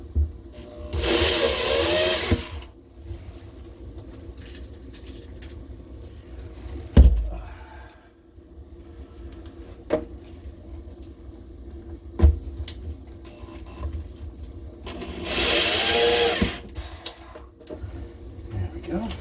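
A cordless drill drives screws into a boat's anchor locker, giving two short whirring bursts with quieter knocks and clatter between them.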